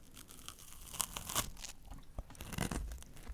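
A slightly crunchy snickerdoodle cookie being eaten, close crisp bites and crumbly crunching with irregular chewing bursts, no talking.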